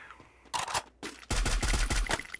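Bursts of rapid video game gunfire crackle loudly as a player trades shots with a bot: one short volley, a brief pause, then a longer sustained exchange of shots close by.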